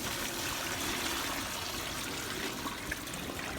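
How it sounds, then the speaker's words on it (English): Rainwater is poured from a bucket into a large 45-gallon trash can, making a steady, moderately faint rushing splash that runs continuously without talk. "I'm going to take my bucket and I'm just going to pour water in this bucket."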